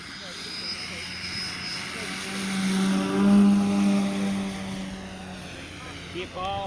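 A Lockheed P-38 Lightning in Red Bull chrome scheme makes a low pass, its twin engines swelling to a loud, buzzing drone that peaks mid-clip and fades, heard through radio-like chatter in a moving vehicle.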